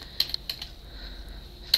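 A few sharp computer keyboard keystrokes tap out in short spaced bursts while a search term goes into a search box, close and clear over quiet background.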